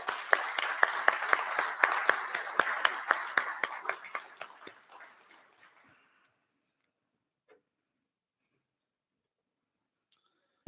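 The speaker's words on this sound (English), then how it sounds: "I just want to say a round of applause for you guys" Applause at a gun owners' town hall, sparse with distinct individual claps at first, then thinning and fading to silence within a few seconds.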